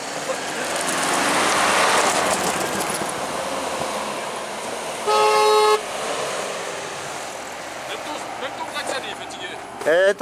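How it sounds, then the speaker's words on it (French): Short honks from the horn of a 4x4 on an off-road raid in Transylvania, one clear sustained toot midway and a brief blip at the end, over engine rumble and ambient noise. "Ton klaxon, il pouette pas bien."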